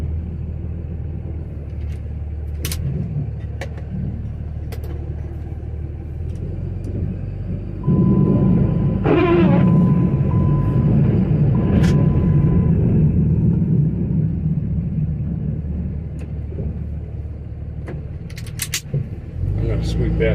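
A truck plowing snow rumbles steadily with a low engine drone throughout, rising as the blade pushes snow toward gravel, with brief clanks and scrapes.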